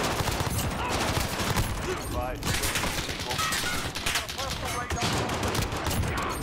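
Rapid gunfire in the video game Call of Duty Modern Warfare, including M19 pistol shots, dense repeated bursts throughout with game sounds layered in the mix.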